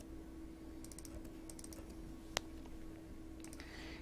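Faint, quick clusters of computer keyboard keystrokes entering shortcuts come in short bursts, with one sharper single click partway through, over a low steady hum, and no one speaks.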